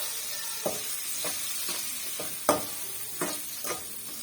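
Tomatoes with red chillies and salt sauté in a pan, a continuous sizzle broken by several sharp scrapes and clacks of a spoon stirring, close and fairly loud with no talking.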